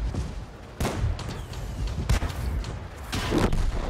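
Heavy tank cannon fire in a World of Tanks battle, several booming shots with sharp onsets over a constant low rumble of engines and battle noise, loud and close, no talking.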